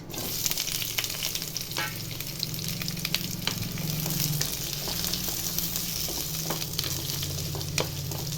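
Chopped onion frying in hot oil along with cauliflower, a loud continuous sizzle and crackle with scattered sharp pops, close up and steady throughout.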